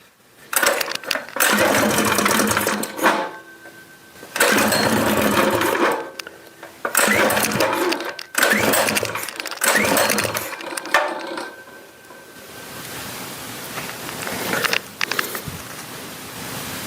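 A small gasoline engine runs in loud, close bursts that surge and drop out several times, then settles into a softer, rougher idle toward the end, with no talk.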